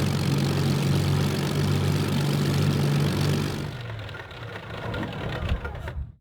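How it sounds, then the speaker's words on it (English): A Supermarine Spitfire Mk I engine in a flight simulator runs down after shutdown, a loud steady propeller drone that drops sharply midway, then a fading rough rumble before cutting to silence. "Usually the engine would take a little bit longer to run down."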